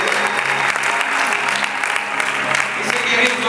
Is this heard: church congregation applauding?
yes